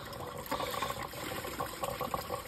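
Water pours steadily from a tap, a continuous hissing gush with faint splashes and clinks, fairly close and with no talking.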